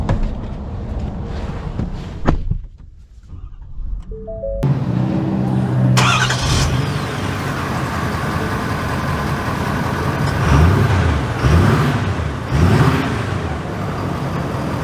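A Ford F-350 XLT Sport diesel pickup cranks and starts, then a steady loud diesel rumble carries on as it pulls away, with swelling revs and road noise throughout.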